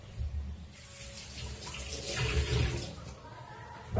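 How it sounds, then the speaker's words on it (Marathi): Coriander stems rinsed under a running kitchen tap, a steady wash of water splashing in the sink at moderate level, swelling slightly in the middle with no talk over it. "कोथिंबीरचे देठ मी धुवून"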